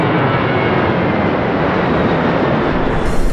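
An airplane roars low overhead beside an airport runway, a loud, continuous broadband engine rumble that fills the whole moment without letting up.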